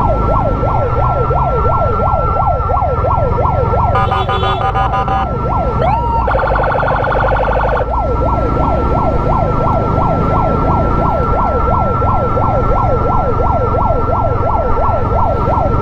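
An ambulance carrying a patient in Indonesia wails its siren continuously and loudly, with a rapid yelping pattern, briefly switching to a higher steady tone before resuming the cycling wail.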